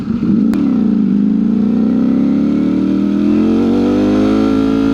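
Motorcycle engine pulling hard through a wheelie, a loud close continuous roar whose pitch climbs steadily as it accelerates, with no talking.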